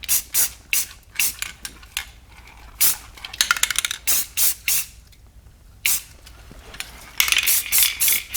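Repeated short bursts from a spray nozzle or can during work on a 700 two-stroke engine project while mounting the coil, with about ten sharp hissing spurts in irregular groups and brief quiet gaps between them.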